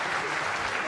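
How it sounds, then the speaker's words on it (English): A brief burst of dense audience applause for a coach at a student engagement awards ceremony, steady, full and fairly loud throughout. "Clap for him."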